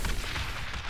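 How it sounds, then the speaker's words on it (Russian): Fireballs burst right beside the player in a dragon fight in Citadel: Forged with Fire, a brief, loud, close explosive boom with a heavy low rumble. "Эти самые фаерболы взрываются прям тут."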